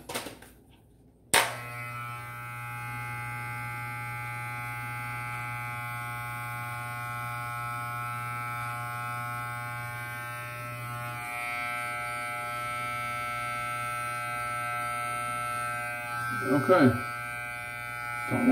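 An electric beard trimmer clicks on and buzzes steadily at close range while trimming a beard, its tone changing slightly near the end as it cuts through hair.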